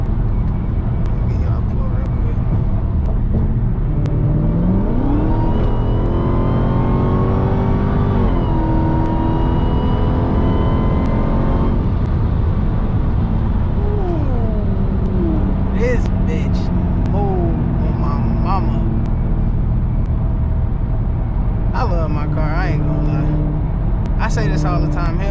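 A widebody Dodge Challenger Hellcat's engine drones loud and close on a late-night drive, its pitch climbing and falling as it accelerates and shifts, with people talking over it.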